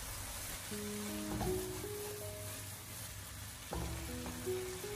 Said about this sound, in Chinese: 我们先把白菜帮提前的翻炒一下，将它翻炒至8成熟左右。